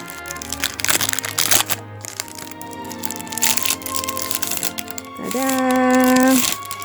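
Perfume packaging is torn open with crackling, crinkling plastic and paper in sharp bursts, close to the microphone, then a voice hums or speaks briefly near the end.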